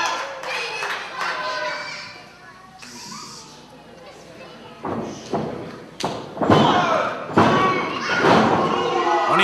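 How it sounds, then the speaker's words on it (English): A wrestler is lifted high and slammed onto the back of his head on the ring mat at a pro wrestling show, giving loud repeated thuds and impacts amid crowd noise and commentary. "he just got lifted high up and slammed on the back of his head"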